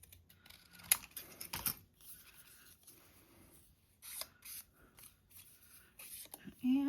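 Scissors snip a paper scrap to straighten its edge, with short crisp cuts and rustling of paper in a quiet room and a brief voice near the end.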